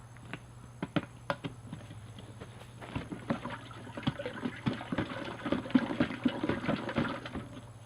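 Fur traps are sloshed around in a container of dye water, giving soft, irregular splashes and liquid knocks at close range with no talking.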